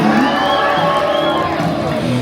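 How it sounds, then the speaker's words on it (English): A large audience cheers and whoops at a Disney cruise ship show in the Grand Hall, a dense, steady roar of voices with children shouting, continuous and close throughout. "Keep that applause going for Princess Cinderella and Prince Charming."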